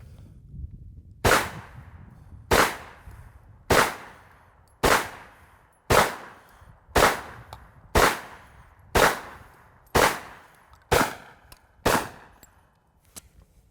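Eleven sharp, close gunshots from a Hi-Point carbine and C9 pistol, fired one at a time at a steady pace of about one per second, each a loud crack with a short decaying tail.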